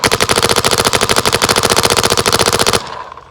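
A GoG Freak XL paintball marker fires a rapid string of about ten or more evenly spaced shots, loud and close, then stops abruptly.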